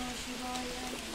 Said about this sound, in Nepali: नन स्टप पानी पर्दैछ